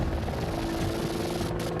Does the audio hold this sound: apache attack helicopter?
yes